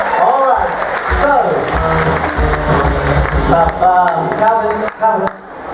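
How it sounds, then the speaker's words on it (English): A crowd claps and applauds at a game show aboard the cruise ship Carnival Breeze while a loud voice talks over it, the clapping swelling and fading in bursts. "Give them a nice round of applause."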